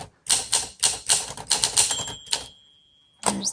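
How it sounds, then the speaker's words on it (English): A 1951 Olympia SM2 manual typewriter is typed on in crisp, evenly spaced keystrokes, with a bright ring of the carriage bell near the middle, then a pause and one more strike, heard close and clear. "There's the bell."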